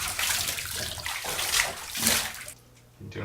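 Water splashing and sloshing as feet move around in a tub, continuous churning bursts up close that briefly go quiet near the end before resuming.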